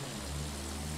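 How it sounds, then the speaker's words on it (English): Enemy warplanes in the Battlefield 1 video game drone steadily and loudly with a continuous propeller-engine hum throughout, with no voices. "three enemy planes ramming us"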